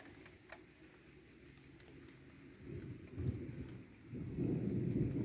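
Thunder rumbles low and builds toward the end of a stormy stretch, a rolling swell over steady background rain during a 2024 thunderstorm.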